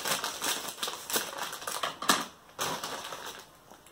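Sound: crunching kettle-cooked potato chips

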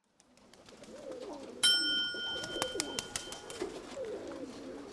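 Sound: pigeons cooing

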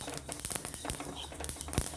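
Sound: sesame seeds popping while being roasted

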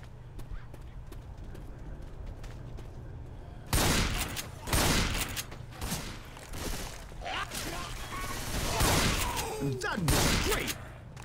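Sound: shotgun firing at zombies in Left 4 Dead 2 video game

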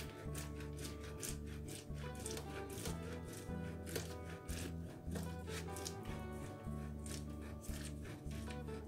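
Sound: cheese being grated on a coarse grater

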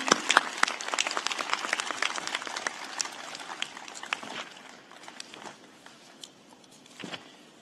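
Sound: applause

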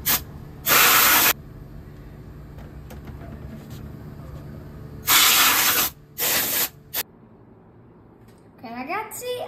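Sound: cleaning spray being sprayed to clean a PS5

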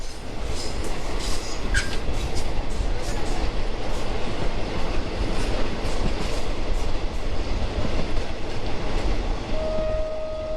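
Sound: train running on railway tracks

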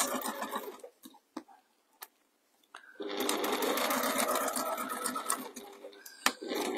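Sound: sewing machine stitching a fabric cushion gusset

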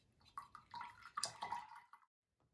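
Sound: washing a paintbrush in water

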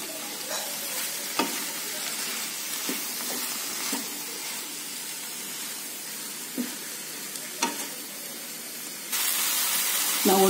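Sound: carrots and capsicum stir-frying in a pan

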